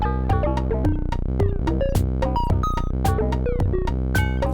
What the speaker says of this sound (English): this is just the modular synthesizer coming in via the yellow cable here